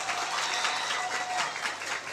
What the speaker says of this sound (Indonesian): Tepuk tangan untuk santri semuanya.